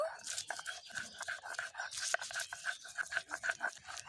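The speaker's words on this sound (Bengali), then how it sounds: "আমি পেঁয়াজটাও বেটে নেব" Onions are ground into a paste with quick, rhythmic back-and-forth scraping strokes, about three to four per second, close and fairly loud.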